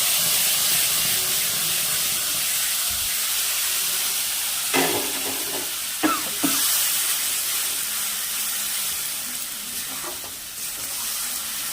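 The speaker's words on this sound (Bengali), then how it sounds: "এবার আমি এই যে মশলাটা আছে এই তেলের মধ্যে দিয়ে দেবো" Spice paste sizzles in hot oil with black cumin seeds in a loud, continuous hiss, broken by a few stirring scrapes and clatters midway, with no speech.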